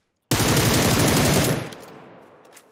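Automatic gunfire in PUBG Lite on the Miramar map: one sharp, loud burst of rapid shots lasting just over a second, then a fading echo tail.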